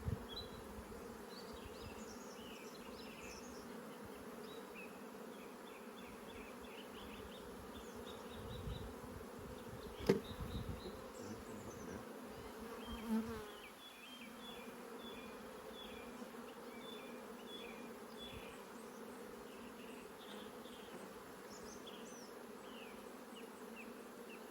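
Honey bees buzzing during transfer from a nuc box into a larger hive, a continuous low drone close by, with a couple of faint knocks partway through.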